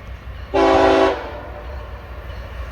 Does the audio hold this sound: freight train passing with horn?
yes